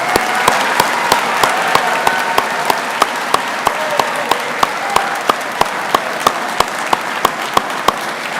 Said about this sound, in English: Let's give all the moms here a round of applause.